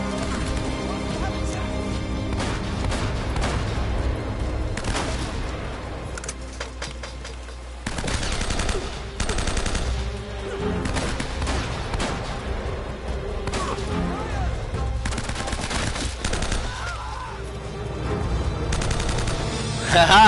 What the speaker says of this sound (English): I got a couple shots off on him as he ran by